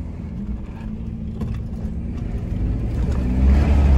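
A Renault Sandero RS on a lowered sport suspension driving along a dirt road, its engine droning steadily under continuous road and gravel rumble that builds louder toward the end.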